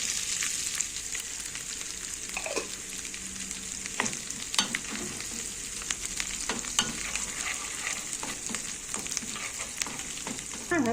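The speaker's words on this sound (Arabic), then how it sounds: "خلاص بقى التومة بتاعتي هتتحمر" Pounded garlic fries in a pan with a steady close sizzle, broken by crackles, pops and the scrape of stirring, with no talking.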